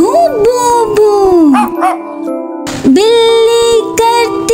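Dog barking and yelping in short repeated bursts, set within a children's animal-sounds song with music; the bark-like sounds may be voiced imitations.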